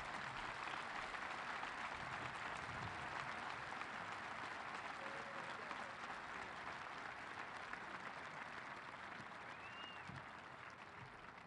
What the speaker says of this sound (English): I would like you all to keep the applause going for those legendary forever Giants